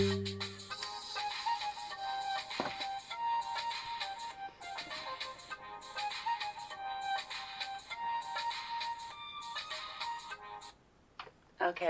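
A cell phone plays a melodic electronic ringtone, a bright repeating tune that loops steadily for several seconds at moderate loudness before cutting off near the end.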